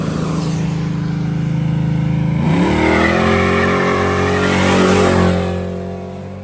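A car revs hard and spins its wheels, the engine note climbing and holding with screeching tire noise, loud and close, then easing off near the end.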